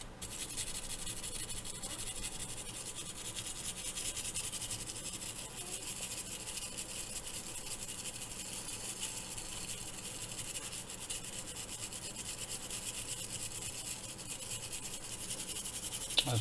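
Hard bristle brush scrubbing wet parts of a Mad Catz Street Fighter IV arcade controller, a continuous close scratchy bristle noise with fast back-and-forth strokes that stays steady throughout, no speech.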